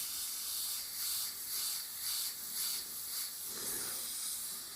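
A Micron airbrush sprays paint on a custom car in short, pulsing bursts of soft airy hiss, about eight quick flicks in a row, close up and fairly quiet, with no talking.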